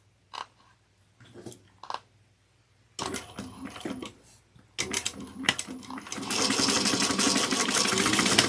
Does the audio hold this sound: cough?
no